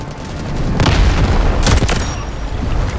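Heavy artillery explosions rumble in the shooter game Delta Force Hawk Ops, loud overlapping booms with a deep low-end rumble and a couple of sharper blasts close together, continuous and without speech.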